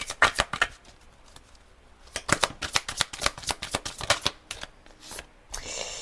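Tarot cards are shuffled in a tarot reading, giving a run of quick papery riffles and snaps in bursts with short pauses, close and fairly loud with no voices.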